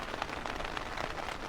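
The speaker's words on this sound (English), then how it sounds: "I'm gonna go ahead and end this video because it's still raining" Steady rain falls outdoors, a constant close hiss of drops pattering on surfaces with no gaps and no voices.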